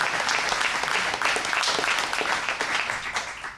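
Audience applause at an outdoor announcement of new affordable housing, steady dense clapping from a crowd sustained throughout without letting up.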